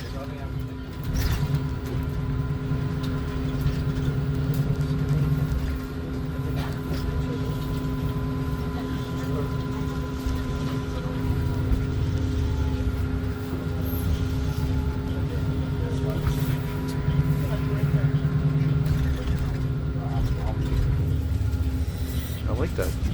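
Steady low rumble and engine drone inside a moving Montreal STM New Flyer city bus, with constant road noise, faint rattles and occasional clunks throughout.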